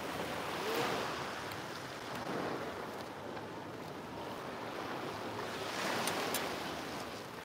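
Sea waves at an Italian beach: soft, distant surf rolling in with gentle swells rising and falling in a low, steady wash.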